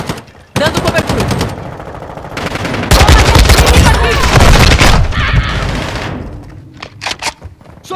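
Covering gunfire in the Call of Duty Modern Warfare II video game during multiplayer with an AK74-u: loud, close rapid automatic bursts with dense overlapping shots and booms, tapering into scattered single shots.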